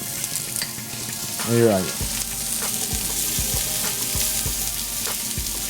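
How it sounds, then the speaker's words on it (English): Zucchini, squash and onions sizzle steadily in a hot pan, a dense continuous fry with a few sharp clicks of stirring, while a voice speaks briefly near the start. "we're going to do the zucchini and squash in the same pan since it's already hot with the onions"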